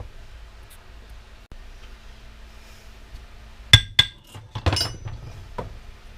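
A few sharp metallic knocks and clinks ring out as a bearing is driven out of a cast aluminum part from a Ryobi electric power washer being scrapped. They come after a quiet stretch and are followed by a short rattle.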